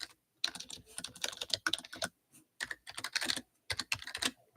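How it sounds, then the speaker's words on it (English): Typing on a computer keyboard in a home streaming setup, rapid clattering keystrokes in bursts separated by short pauses, close and clear with no talk. "You guys can probably hear my typing."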